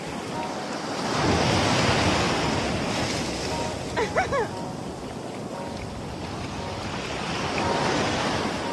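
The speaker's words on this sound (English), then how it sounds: "Time at the beach." Ocean surf rolls in at a beach, a broad wash of waves swelling and fading with wind buffeting the microphone and a brief bark-like sound in the middle.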